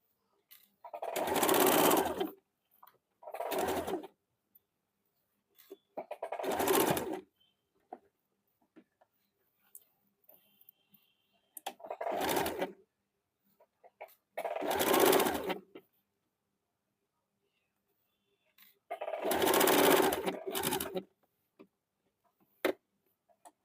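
A sewing machine stitches a gents' short kurta with pinned fabric, running in six separate bursts of a couple of seconds each, with quiet pauses between them.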